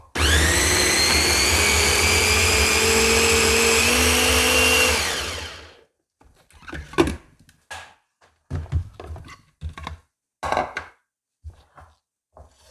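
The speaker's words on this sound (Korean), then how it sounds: "안에 가육은 한번 믹서기로 갈아 보겠습니다" A blender roars loudly for about five seconds, grinding orange pulp steadily for marmalade, then cuts off, followed by scattered clinks and knocks of utensils.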